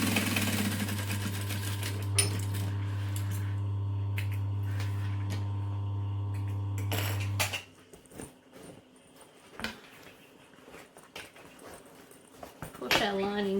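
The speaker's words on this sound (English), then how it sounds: "So you just stitch as close to the edge as you can without running off the edge." A sewing machine hums steadily at close range for several seconds while stitching a clutch bag's lining closed, then stops, leaving quiet handling noises and soft rustles.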